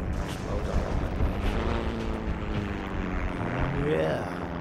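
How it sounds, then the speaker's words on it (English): A plane in the World War II shooter Heroes and Generals, its engine droning and whining before a heavy explosive blast, a rumbling roar that swells near the end, with a voice murmuring underneath. "you can just hear the plane's engine screeching and then it just explodes all over"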